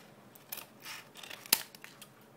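Scissors snipping paper while a paper bazooka scope is trimmed: a few close, crisp cuts, the sharpest near the end, over a quiet room.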